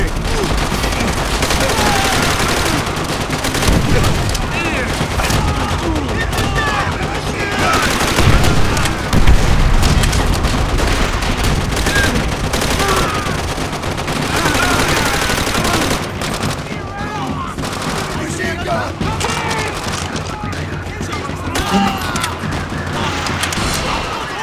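Dense gunfire and machine-gun bursts from the video game Call of Duty: World at War, continuous loud rattling volleys with occasional heavier booms, with voices speaking over the battle.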